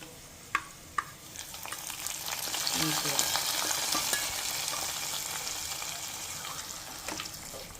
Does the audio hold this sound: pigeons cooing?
no